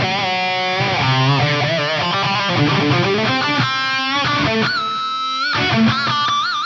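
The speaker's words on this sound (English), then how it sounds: "I just love to pile lots of distortion on top of this guitar because it handles it so well" Electric superstrat guitar played through heavy distortion, a loud sustained riff of chugging chords and bending lead notes with effects, played alone without talk.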